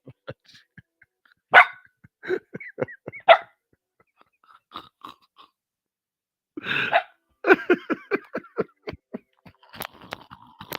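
A dog barks indoors in short, sharp bursts: a few isolated barks early on, then a quicker cluster later, separated by quiet gaps.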